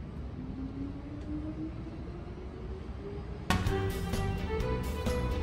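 A Hankyu 7000-series train hums and rises in pitch as it moves, then a louder burst of mechanical clatter and hiss as it pulls in and stops nearby at Karasuma Station, Kyoto.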